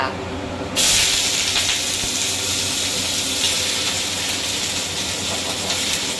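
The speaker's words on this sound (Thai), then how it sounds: "อันนี้เราจะผัดผักก่อนแล้วค่อยทำน้ำราดหน้านะคะ" Vegetables stir-fry in a hot pan for grouper gravy noodles: a brief quieter moment gives way to a sudden loud, steady sizzling hiss that holds to the end.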